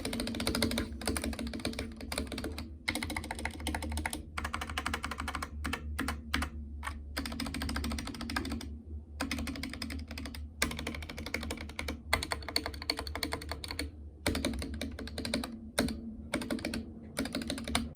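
Typing on a Gamakay MK61 mechanical keyboard: rapid, steady keystroke clacks in close succession, with brief gaps between bursts, recorded up close and heard alone without any voices.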